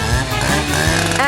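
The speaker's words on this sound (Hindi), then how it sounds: "मुझे इसे काटने के लिए किसी विशेष औजार की आवश्यकता होगी, जैसे कि यह आरी।" A power saw cuts through a giant cake, a loud continuous buzzing drone with harmonic whine that shifts in pitch, close and filling the moment.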